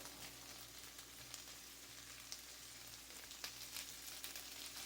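Leftovers cook in a pan with a soft, continuous sizzle and scattered faint pops, left alone without stirring, quiet and free of talk.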